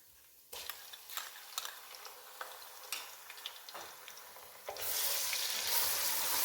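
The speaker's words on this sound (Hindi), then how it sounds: "थोड़ा सा हम इसको भून लेंगे।" Ginger garlic paste sizzles and crackles in a hot pan with scattered pops and light stirring clicks, then the frying swells into a louder, steady sizzle.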